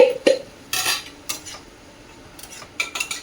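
A metal lid lifted off a cooking pot of cabbage simmering with curry leaves, giving a few close, sharp clinks and clatters with brief rattles spread across the moment, no voices.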